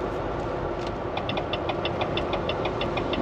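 Car engine misfiring while driving on a road, a steady rumbling engine drone with a regular, evenly spaced ticking knock repeating through the second half, no voices.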